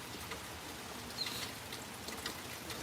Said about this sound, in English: It's raining here in upstate New York.